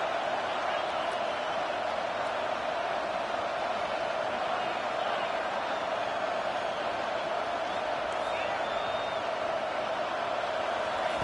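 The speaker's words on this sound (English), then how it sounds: "Decibels rising as the crowd gets behind this defense on 3rd down" Continuous roar of a stadium crowd at a football game, a dense, unbroken wall of noise that stays loud and even throughout, building support on a third down.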